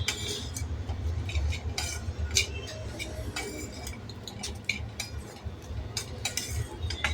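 Wheat-flour ukadpendi is sautéed in a pan, heard as repeated clinks and scrapes of a spoon against the metal over a low background hum, with no steady sizzle.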